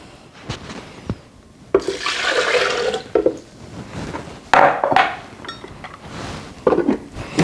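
Water is poured over rice in a container for a black sesame pudding, heard as several splashing, sloshing bursts with short pauses between them, fairly close and moderately loud.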